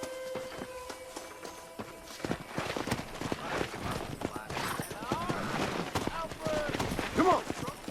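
Horses' hooves clip-clopping in the Red Dead Redemption western video game during cattle herding, a busy patter of hoofbeats with scattered game noises and a brief whinny-like tone near the end.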